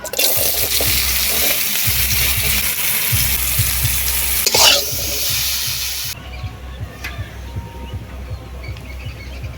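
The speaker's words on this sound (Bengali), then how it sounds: "মাছগুলো ভাজা হয়ে গেছে এবারে বেগুনগুলো ভাজবো" Eggplant pieces fry in hot oil in a wok after fish was fried, giving a steady, close, loud sizzle with occasional stirring scrapes; the sizzle thins out in the final seconds.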